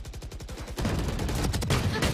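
Gunfire in Valorant, a run of rapid shots followed by louder, denser bursts of firing, close and sharp, with no talk over it.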